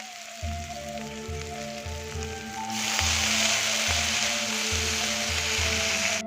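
Amrul greens frying in a pan with onion, shrimp and green chili, a steady close sizzle that swells louder partway through, broken by regular clicking knocks.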